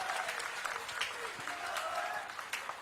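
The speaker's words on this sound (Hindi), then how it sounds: "जोरदार तालियां बजनी चाहिए" Audience applause at a golden jubilee celebration event, a steady wash of clapping from a crowd, moderately distant and sustained throughout with faint voices mixed in.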